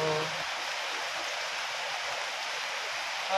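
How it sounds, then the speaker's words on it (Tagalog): Steady rain falls outdoors over a garden with a fruiting papaya tree, making a soft, even hiss that holds constant throughout with no distinct drops and no talking. "Maulan lang siya guys ngayon, maulan."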